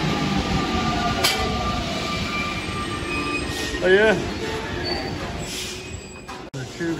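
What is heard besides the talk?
subway train leaving station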